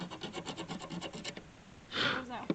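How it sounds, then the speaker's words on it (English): Rhythmic rasping strokes of sanding paint off a car body, a quick series of back-and-forth scrapes, then a brief pause and a louder burst of rubbing. "I'm sanding down the paint so that there's a good surface"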